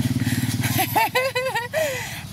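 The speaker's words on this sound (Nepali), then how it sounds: "यता छेउछेउ हिँड है, बाइक आउँदैछ।" A motorcycle approaches on a rural hill road in Terhathum, Nepal, its low engine drone steady at first before voices talk over it as it draws near.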